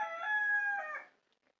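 A rooster crows once in a long, loud, drawn-out call that fades out near the end, with a few faint clucks after; no talking.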